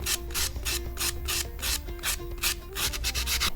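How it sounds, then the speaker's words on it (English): Rhythmic back-and-forth sanding scrapes over a garden gnome statue where its hat used to be, the strokes close and regular, repeating roughly every third of a second with a faint underlying hum. "give the area where his hat used to be a bit of a sand"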